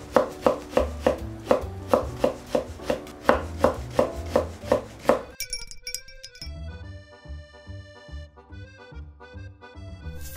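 Okra sliced with a knife on a cutting board, a quick even run of sharp close chops that stops partway through, followed by light music.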